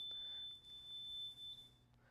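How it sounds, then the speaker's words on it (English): A fire alarm panel signals a tampered sprinkler valve with a faint, steady high-pitched electronic tone that holds for about two seconds in a quiet room. "That's an indication that this valve is being tampered with and that is now ringing out our fire alarm panel"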